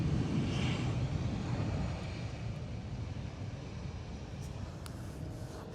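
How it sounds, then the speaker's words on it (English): An airplane drones overhead, a distant low rumble that stays steady and gradually fades a little, with no voices over it. "Another airplane."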